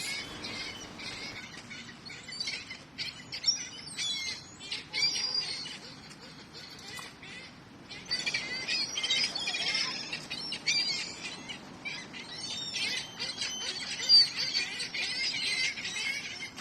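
Small birds chirp and tweet in repeated bursts through a morning outdoor scene, moderately near, with brief squeals and a faint flutter of wings among the calls.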